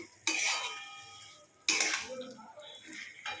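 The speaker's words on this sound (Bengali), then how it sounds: "সবগুলোকে একসাথে নেড়ে নেব।" Potato and pointed gourd curry with spices is tossed and stirred in a pan, giving two loud scraping sweeps, each fading into softer rustling, with faint speech in between.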